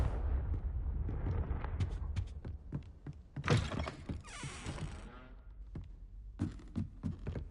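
Fire spell Confringo cast in Hogwarts Legacy: a run of sharp magical blasts and crackling impacts, then a bright whooshing burst of fiery hiss lasting a couple of seconds, with more thuds trailing off afterward.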